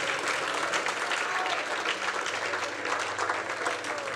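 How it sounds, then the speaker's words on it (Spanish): Church congregation clapping for the Lord, a dense, continuous patter of applause from a crowd, fairly even throughout with faint voices mixed in. "¿Quieres darle aplauso al Señor?"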